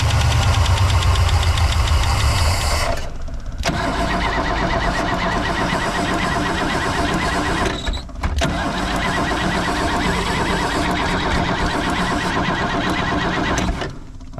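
A 1964 Oldsmobile 98 engine runs loud and rough as it struggles to idle, with a dense continuous roar, brief dips near the start and midway, and a harsh, knocking texture throughout.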